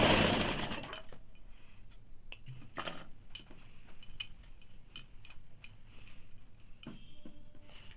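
Sewing machine stitching a blouse strip at a half-inch seam, a fast mechanical whir with sharp ticking clicks, loudest at the start and then running steadily at moderate level with no talk.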